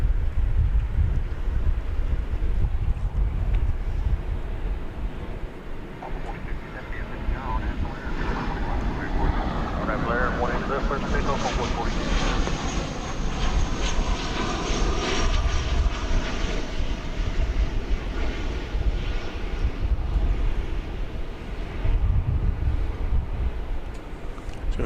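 Air Canada Airbus A320 jet at DFW Airport, heard as a sustained broadband engine roar that swells through the middle and stays steady, with some wind noise on the microphone.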